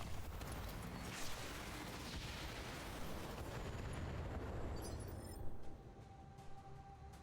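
Mech weapons pound a Locust in the BattleTech video game: a dense, continuous barrage of heavy rumbling blasts and booms. It stays loud for several seconds, then one last burst hits and the fire eases off into quieter rumble. No voices.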